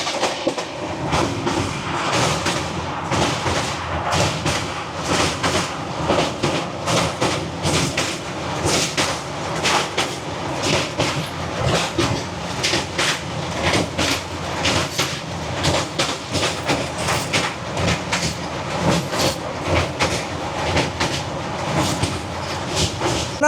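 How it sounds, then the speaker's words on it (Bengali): The Puri-Howrah Shatabdi Express runs on rails at speed past Rajghat station, its wheels clattering in a steady, rapid clickety-clack that is loud and close, heard from aboard, continuous for the whole stretch. "এই আমাদের ট্রেন পার করলো রাজঘাট স্টেশন"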